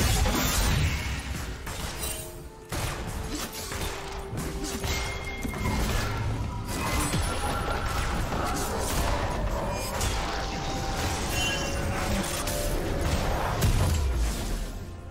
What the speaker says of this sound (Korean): 파란 팀의 포탑이 파괴되었습니다